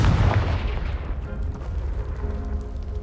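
A Confringo blasting spell from a video game, fired at a piled-up barricade blocking a stairwell: one heavy explosive boom at the start that rolls off into a fading rumble and debris tail.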